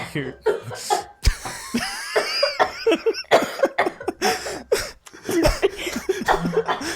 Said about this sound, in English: You just had to have your coughing fit now.